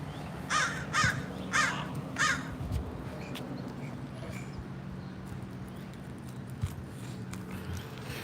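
A crow caws several times in a park, four harsh calls in quick succession near the start, then steady outdoor background noise with no voices.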